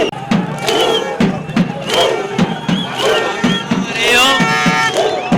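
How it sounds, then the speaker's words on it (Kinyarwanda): Spectators at a Rayon Sports football match cheering and clapping after a 4-3 penalty shootout win, a loud, dense crowd roar with rhythmic applause and excited shouts throughout. "Ayo ni amashyi y'abareba rero, barishimye cyane cyane cyane cyane cyane"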